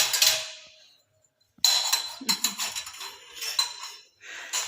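Dishes and cutlery being washed give a run of close clinks, clatters and scraping metal taps in irregular bursts, with a brief quiet pause between rattles.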